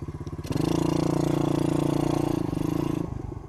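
A small mini motorcycle engine with a 50 to 125 cc size putters at idle, then revs up into a steady, buzzing drone before dropping back, close and alone without talk.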